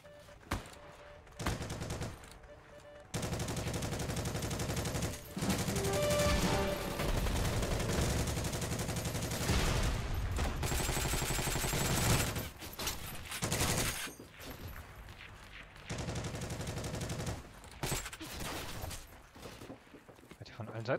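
Gunfire in the online shooter Heroes & Generals: dense bursts of automatic and rifle fire crackling in loud stretches, broken by short pauses, with someone talking over the shooting at times.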